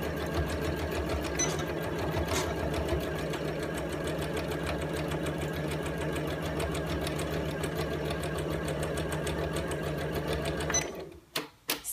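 Sewing machine stitching an envelope-style cushion cover, running steadily and close up with a fast, even whirr for about eleven seconds before stopping, followed by a few brief clicks.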